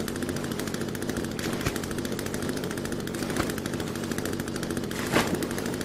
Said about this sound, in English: It's almost like it's a working chainsaw.